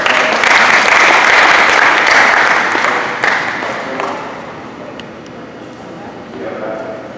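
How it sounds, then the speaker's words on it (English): Loud audience applause fills a coaching clinic hall, dense clapping that gradually fades over several seconds, with speech and a few cheers over the end. "Give y'all a round of applause."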